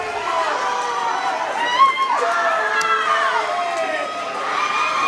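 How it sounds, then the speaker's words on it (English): Spectators at a girls' swimming sectional preliminaries meet cheer on a swimmer, sending up steady, excited shouts and whoops from a crowd that stays loud throughout. "so they're cheering her on"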